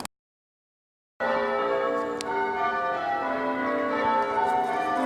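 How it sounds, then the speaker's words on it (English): Church bells peal continuously in Durham, a dense wash of overlapping ringing tones that sets in after a second of silence and carries on steadily and fairly loud with no speech. "As Quasimodo would say, the bells,"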